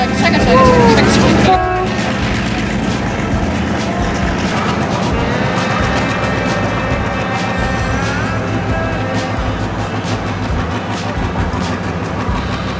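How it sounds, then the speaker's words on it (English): A train in Sri Lanka rolls past with a continuous rumble and squealing metallic tones, after a brief louder burst at the start. "I hear the train. Check it."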